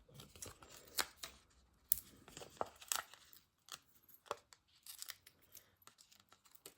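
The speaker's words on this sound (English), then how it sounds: "let's just trim that down. I never seem to cut straight." Scissors trim a paper craft piece in a run of crisp snips and rustles at close range, irregular and quiet with short pauses between cuts.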